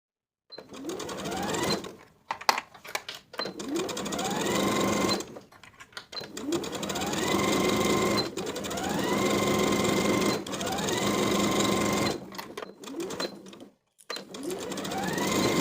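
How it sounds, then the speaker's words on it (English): A sewing machine edge stitches trim along the bottom edge of a beach cover-up at a quarter-inch seam allowance, running in several loud close bursts that rise in speed, separated by short pauses, with no voices. "I'll edge stitch from one side to the other once again, this time stitching with a 1/4 inch seam allowance"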